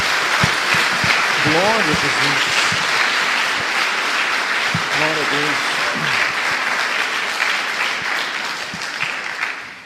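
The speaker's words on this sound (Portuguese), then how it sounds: "dê uma salva de palmas ao Senhor" A church congregation applauding, loud sustained clapping filling the room while a voice calls out over it a couple of times.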